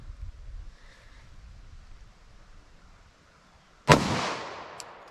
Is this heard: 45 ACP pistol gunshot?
yes